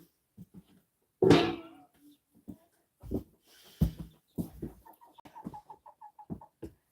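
A backyard chicken clucks near the microphone, with one louder squawk early on and then a run of soft, rapid clucks, while a person talks intermittently.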